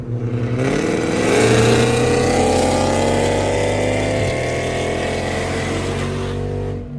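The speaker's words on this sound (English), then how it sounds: "So loud, y'all gotta get this exhaust fixed ASAP." A loud, rumbling Dodge Hellcat exhaust with a burble tune drones continuously on a highway, rising briefly as if revved, then settling into a steady, throaty idle with no talking.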